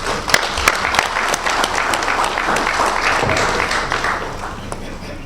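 Sustained applause from a conference audience after a speaker named Olivier finishes his presentation, steady dense clapping holding at an even level throughout with a few sharper claps standing out.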